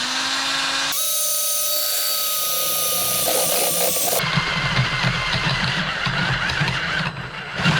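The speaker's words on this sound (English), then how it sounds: "Start by drilling a hole for that bad boy." A drill bores a hole in metal stock in a workshop, its high whining tone holding steady before the pitch drops and grinding, chattering cutting noise takes over, loud and close with no talk.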